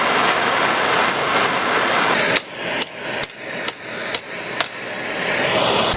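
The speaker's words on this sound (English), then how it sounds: "Torch and a hammer." Six sharp metallic hammer blows on a car exhaust pipe being reshaped with a torch, spaced roughly half a second apart and loud against a steady hiss of background noise; no talking.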